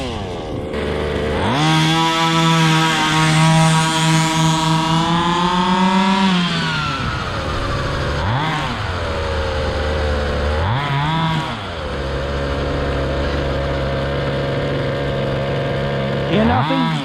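A 1:5 scale RC car's petrol engine runs on a track, buzzing loudly with rising and falling revs, a sustained high-rev scream early on, then repeated throttle blips between idle, close to the listener with faint talk.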